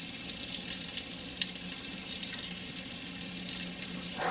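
Food sizzles and crackles steadily in a crowded frying pan, a dense continuous hiss with light stirring clatter, close and alone with no talk.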